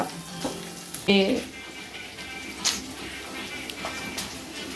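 Thickly cut onions frying in a pan for homemade gobi manchurian, a steady low sizzle with a sharp clatter of stirring and a few brief clinks, while someone talks over the cooking.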